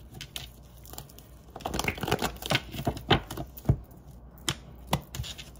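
Tarot cards being shuffled by hand produce a quick run of crisp slaps and riffles, close and moderately loud, with irregular bursts and short pauses.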